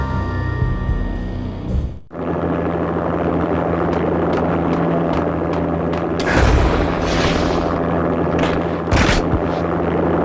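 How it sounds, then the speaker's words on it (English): Armed helicopter setting down on manor grounds in the Max Payne video game: a loud, steady rotor and engine roar fills the scene, briefly dropping out before resuming with heavy booming swells, no talk. "An armed helicopter just landed on the manor grounds."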